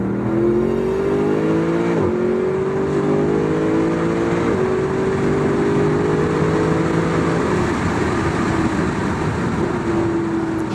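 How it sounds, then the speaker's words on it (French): Mercedes SLS AMG 6.2-litre V8 accelerating hard, a deep burbling engine note rising steadily in pitch through the gears, loud and continuous with no talk. "Le glouglou sonore du V8 AMG fait également penser aux géantes de Détroit."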